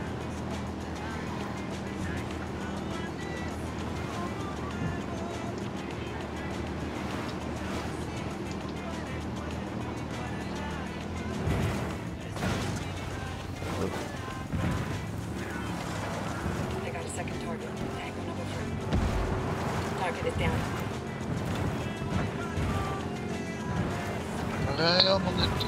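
A steady boat motor drone in Ghost Recon Wildlands hums throughout, with people talking over it and occasional splashing and clunks.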